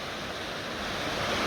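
River water after a flood rushes past a weir in a steady broadband wash that swells slightly, close and continuous, with no voices.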